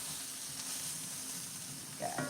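A beef roast in a hot pan sizzles with a steady, quiet frying hiss, and a brief stirring scrape comes near the end.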